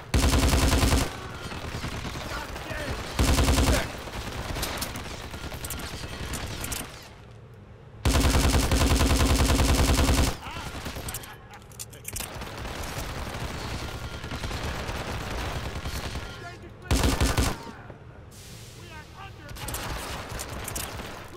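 Enemy gunfire in Hitman Absolution on Purist difficulty, dense bursts of shots and automatic fire crackling nearly nonstop with a few louder blasts, briefly dropping away between volleys.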